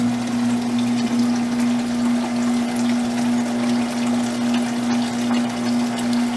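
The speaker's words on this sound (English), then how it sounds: "We want to open it up and flush everything out." Warm water flushing through the cylinder of a Gel Matic ice cream machine during cleaning, a continuous rushing, gurgling flow over a steady motor hum, with no talk.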